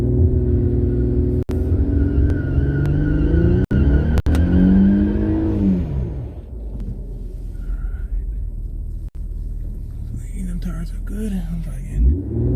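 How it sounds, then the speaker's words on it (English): An Infiniti Q50 with a drag pack does a burnout at the drag strip: a loud, close engine rev climbs and then drops away into a lower rumbling idle, with a faint voice underneath. "So here comes burnout and go."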